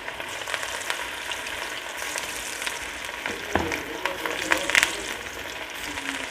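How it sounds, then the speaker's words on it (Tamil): Chicken pakoda pieces fry in hot oil with a steady, dense crackling sizzle throughout, a brief stir or clink near the middle, and no voices. "இப்போ அடுத்த பேஜை போட்டுக்கலாம்"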